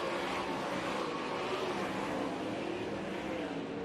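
360 sprint race cars roar around the East Bay Raceway dirt oval at a race finish, a steady dense engine drone heard from a distance without breaks.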